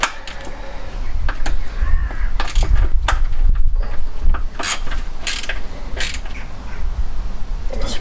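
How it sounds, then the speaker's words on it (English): A 13 mm ratchet tightens engine bolts on a classic Fiat 500, with rapid, close, sharp clicking and creaky mechanical ratcheting in quick runs throughout. "Get our 13 ratchet in here"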